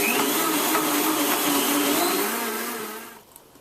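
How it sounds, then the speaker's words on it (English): A blender runs on medium, whirring a smoothie of mango and plain yogurt in a steady, loud drone that fades and cuts off near the end. "Now blend this on medium for 30 seconds"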